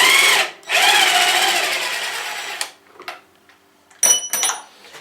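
A Ryobi R18IW3 cordless impact wrench, rated 400 Nm with three speeds and driving screws into wood, whirs loudly and close for about two and a half seconds with a brief dip, then falls quiet before short, sharp bursts.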